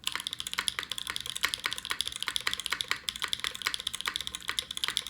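Steady, fast typing on an Iron180 Mictlán Edition mechanical keyboard with polyfill stuffing in the case, giving dense, even, muted clacks close up, continuous across the whole stretch without talk.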